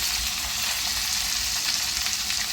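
Onion and cabbage frying for Mumbai-style tawa pulao, giving a steady, dense sizzle that holds close and even throughout, with low clatter underneath and no voices.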